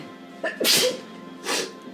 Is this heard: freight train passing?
no